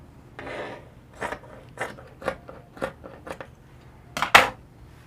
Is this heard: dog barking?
no